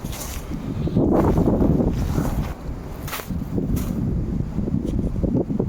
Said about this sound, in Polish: na pewno słychać ten wiatr